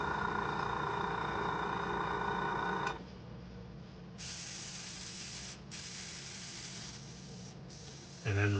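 A GAAHLERI GHAD-68 airbrush sprays acetone in a steady, loud hiss. The hiss abruptly drops to a softer airy rush that stutters on and off in short breaks.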